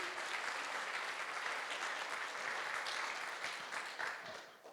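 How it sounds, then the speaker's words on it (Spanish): A church congregation applauds during a worship service, steady dense clapping from many hands that holds evenly and tapers near the end, fairly distant and soft. "Dale un fuerte aplauso al Señor."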